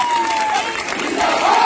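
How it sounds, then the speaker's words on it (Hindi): A crowd at a protest sit-in claps and cheers, a dense, steady roar of hands and voices with a faint tone threading through the short burst. "जोरदार तालियां चाहूंगा साथियों"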